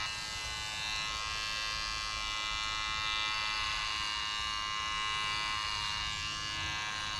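Electric hair clippers cut a man's hair with a loud, continuous, even buzz that holds steady throughout, close up, no talk.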